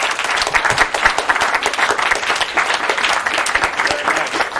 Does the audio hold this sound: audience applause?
yes